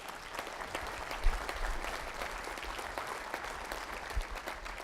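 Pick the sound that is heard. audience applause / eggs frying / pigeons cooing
audience applause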